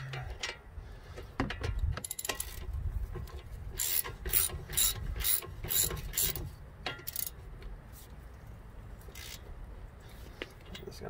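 A socket ratchet with 14 and 16 mm sockets tightens the front strut bolts on a Jeep Renegade. Rapid close clicking comes in several bursts over low background rumble, with a brief murmur of voice.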